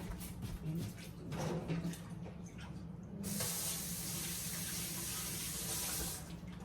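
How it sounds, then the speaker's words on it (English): A kitchen tap gushes steadily into a sink as hands are washed during rib preparation, with soft handling noises before the water opens up full and close. "let me wash my hands"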